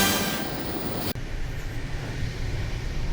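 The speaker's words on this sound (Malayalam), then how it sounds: "ഞങ്ങളിപ്പോൾ ട്രെയിനിൽ പോയിക്കൊണ്ടിരിക്കുകയാണ് ക്രാക്കോ" A passenger train travelling toward Kraków, a steady loud rumble of the carriage with a brief sharp break, the roar then continuing more muffled from inside.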